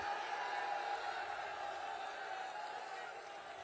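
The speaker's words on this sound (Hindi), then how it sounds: "जोर से ताली बजाइए" A large crowd at an outdoor political rally in Prayagraj claps and cheers in a sustained, dense roar that holds steady and fades slightly toward the end.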